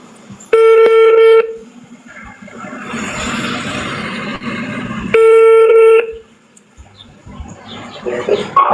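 An outgoing phone call rings back twice over the line, each ring a loud steady electronic tone about a second long, with muffled background noise and movement between them.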